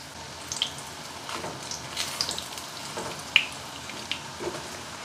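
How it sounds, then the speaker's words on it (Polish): Soft, steady sizzling of rice croquettes frying in a pan, with occasional small pops and crackles, fairly quiet and close. "Pięknie się smażą."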